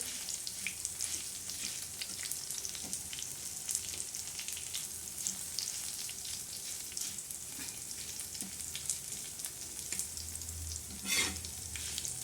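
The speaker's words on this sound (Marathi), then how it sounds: "असं खरपूस बघा मसाला कसा भाजतोय आपला खरपूस" Black masala spices dry-roasting in a pan for a village-style mutton curry, a steady crackling sizzle with scraping stirs running throughout, close and alone.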